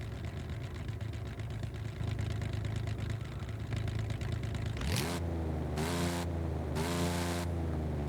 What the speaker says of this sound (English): But the actual idle doesn't sound too bad.